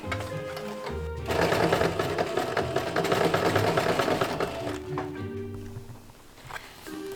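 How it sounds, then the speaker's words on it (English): A sewing machine runs in a steady continuous whir for several seconds, stitching around the collar and edges of a leather cosplay jacket, with a short start and a tapering stop, close and alone. "Including the collar, I am going to sew together all around the jacket, but I'm going to leave the bottom open."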